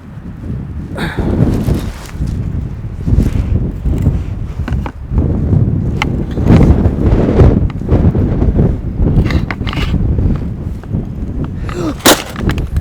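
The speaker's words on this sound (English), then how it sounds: "It's so windy out here that the wind blew over my light." Heavy wind buffets the microphone in loud, irregular thumps and rumbles, gusting repeatedly throughout with no speech.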